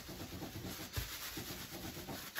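Hands rub loose wool fibres by hand to felt a small pouch, giving a soft, close, rhythmic scrubbing with a few brief bumps and no voices.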